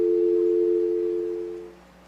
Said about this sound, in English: press on the coin hopper trigger so that the sensor is broken and you'll hear a dial tone